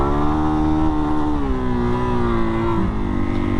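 A 2022 Suzuki DR-Z400S dirt bike rides over trail moguls, its single-cylinder engine droning close and steady with pitch rising and falling as the throttle shifts.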